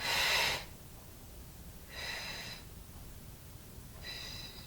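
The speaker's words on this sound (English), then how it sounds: "And exhale." Three deep, slow breath sounds during gentle yoga breathing, each a soft airy rush through the nose, the first strongest and the later two quieter, separated by pauses of near silence.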